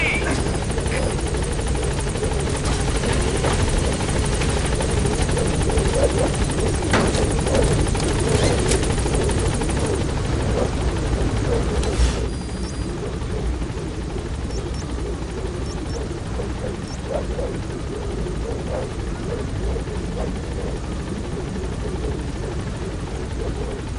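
Helicopter rotor and engine roar steadily and loudly throughout as the aircraft lifts off in Metal Gear Solid V, with radio-style game dialogue over it; the sound thins slightly after the first half as it climbs.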